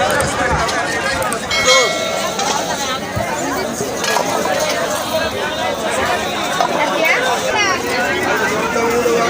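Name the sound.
crowd at a busy Wednesday village market in the Sundarbans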